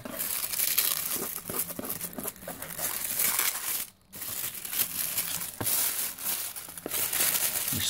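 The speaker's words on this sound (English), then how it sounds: "Destroy the tissue paper." Tissue paper crinkles, tears and is crushed by hand while a package is unboxed, a steady close rustling that runs throughout with one brief pause in the middle.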